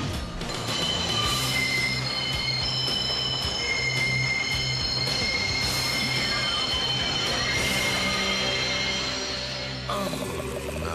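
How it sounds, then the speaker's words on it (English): Cartoon runaway trains rumble loudly along rails with continuous metallic squealing and screeching wheels, a dense, sustained roar throughout. "The trains are out of control!"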